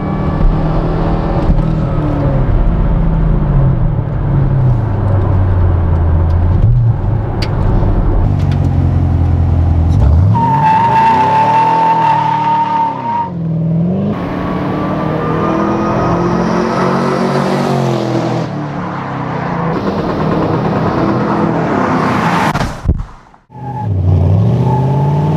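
A 600-horsepower Chevrolet Camaro SS launches hard with its tires spinning on asphalt. The engine roars and revs loudly and climbs through rising gear sweeps, with a whirring edge and a brief drop near the end.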